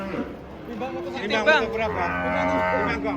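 A cow moos in a long, loud, drawn-out call just after being unloaded from a truck, with people's voices chattering in the background.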